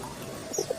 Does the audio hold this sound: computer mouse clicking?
no